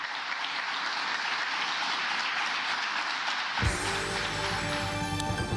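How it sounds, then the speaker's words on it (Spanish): A standing audience gives long, dense applause, loud and sustained, then it cuts abruptly to a different, tonal background partway through. "Con público de pie y un largo aplauso, terminó su réplica con sabor a despedida."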